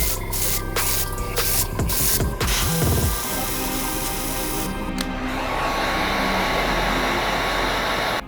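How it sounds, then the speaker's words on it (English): An airbrush sprays Jacquard white paint onto leather Air Jordan 1 sneakers, a steady close hiss of air and mist with a few brief clicks and rubbing sounds near the start. "We're gonna touch it up using the airbrush."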